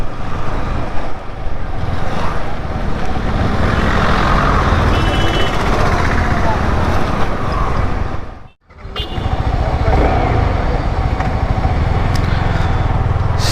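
Motorcycle engine drone while riding out after two weeks parked, a steady loud rumble with wind noise throughout and a brief drop near the middle, no talk.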